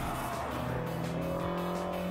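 2013 BMW M6 coupe with a 560 hp V8 driven on a race track, its engine a loud close in-car roar that climbs in pitch through the gears.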